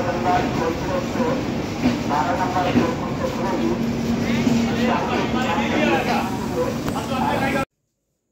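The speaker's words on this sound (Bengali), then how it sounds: "4:50 বাজতেই ট্রেন ছেড়ে দিল।" Rajdhani Express pulling out of Howrah station, a steady rumbling rail roar with a faint low hum carrying on continuously beneath overlapping voices of people talking on the platform.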